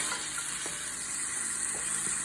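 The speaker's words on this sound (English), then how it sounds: "Mix it around a little bit so that the kale can have access to the bottom of the pan." Kale frying and being stirred in a pan, with a steady, fairly quiet sizzle and a few soft scrapes while it's moved around.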